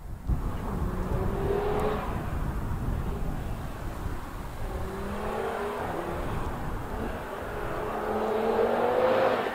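A 2017 Audi TT RS with a sports exhaust runs steadily, its engine note rising and falling through revs and growing louder toward the end, with no talking.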